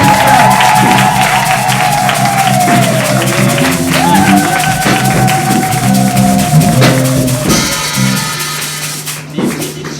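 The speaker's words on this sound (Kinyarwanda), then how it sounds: "katwongera Imana amashyi menshi" Crowd applause at a church gathering with a bishop, sustained clapping and some cheering under a loud, echoing voice and a keyboard playing, continuing for several seconds before tapering off.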